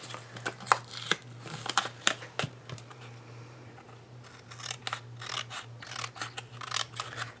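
Scissors cut through paper in a series of crisp, irregular snips and rustles, close up, over a faint steady hum, with no voices.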